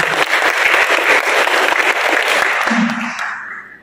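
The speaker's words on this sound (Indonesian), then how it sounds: "Tepuk tangan untuk kita semua." Audience applause at an environmental youth ambassador festival gathering in NTB, loud dense clapping from a large crowd that holds steady and then fades away toward the end.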